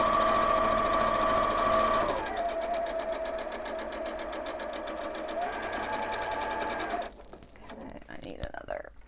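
A sewing machine runs steadily, stitching quilt pieces together with quarter-inch seams, its whirring drone close and loud, shifting speed a couple of times before stopping near the end, with faint room noise after.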